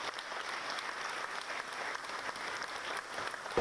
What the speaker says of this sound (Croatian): Publika je izvedbu nagradila aplauzom dugim 10 minuta.